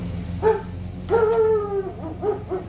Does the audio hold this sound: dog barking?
yes